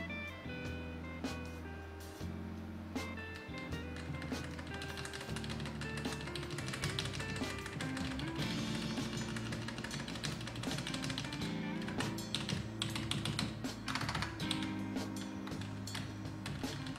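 Steady clattery typing on a computer keyboard of a retro dual Pentium III PC, close and continuous with rapid uneven keystrokes, no talk.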